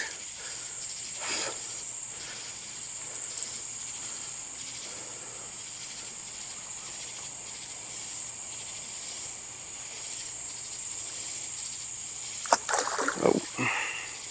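Insects shrill steadily on a night fishing trip, a constant high cricket-like drone over faint lapping water, with a few sharper knocks and splashes near the end.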